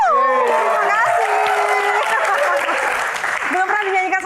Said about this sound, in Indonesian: Tepuk tangan lebih meriah lagi teman-teman.